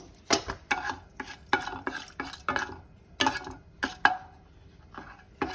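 Urad dal frying in a pan with turmeric, stirred in brisk, irregular strokes that scrape and clink against the metal, close up over a soft sizzle with no talking.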